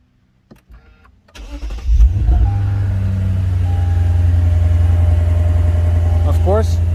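A 2022 Lexus RC-F starts with a brief starter whir and then fires into a loud, deep idle that holds steady, recorded up close.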